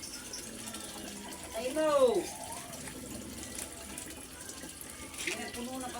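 Water runs steadily from a tap as a soft, continuous wash of noise, with a short spoken phrase breaking in partway through.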